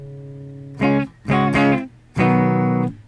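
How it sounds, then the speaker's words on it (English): Electric guitar through delay and reverb pedals plays three sustained, ringing chords with a bright, spacious tail, separated by brief pauses, with no talking. "So I have the effects of the delay and the reverb going through my board."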